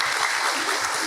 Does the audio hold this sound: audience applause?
yes